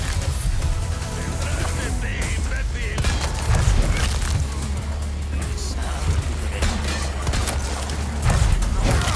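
Gunfire from a gun in Resident Evil 4 Remake rings out as dense bursts of shots and booms over a rumbling game soundscape, with a voice talking throughout.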